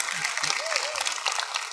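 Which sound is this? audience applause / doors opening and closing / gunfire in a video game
audience applause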